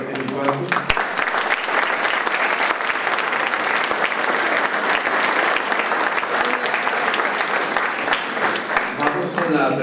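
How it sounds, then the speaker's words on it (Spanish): Sustained applause from the audience at a televised forum of Costa Rica's 2018 vice-presidential candidates, dense and steady from start to finish, with a few louder claps standing out. "Un aplauso para todos los participantes."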